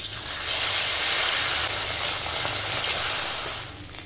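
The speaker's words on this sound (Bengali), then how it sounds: "মাছ ভেজে নিচ্ছি।" Bata fish frying in a pan of oil, a steady broadband sizzle that holds loud and continuous throughout, easing slightly toward the end, with no talk over it.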